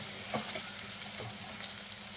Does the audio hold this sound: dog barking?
no